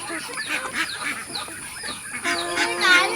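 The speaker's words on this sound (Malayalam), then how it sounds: "ഒരു താറാവ് വന്നാ പിന്നെ ബാക്കി താറാവ് പുറകെ വരും" A flock of domestic ducks quacks and honks repeatedly at close range, with several overlapping calls growing louder toward the end.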